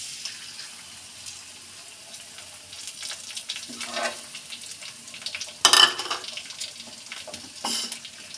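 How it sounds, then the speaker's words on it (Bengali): Eggs cracked into a hot pan to fry for noodles: a steady, quiet sizzle with a sharp, louder hissing burst partway through, plus occasional utensil scrapes and no talk. "এখন আমি ডিমগুলো দিয়ে দিচ্ছি।"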